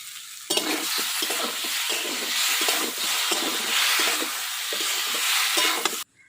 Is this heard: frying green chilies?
yes